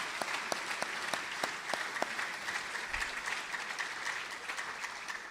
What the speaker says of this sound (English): if you would all clap your hands with me, and let's show appreciation to these folks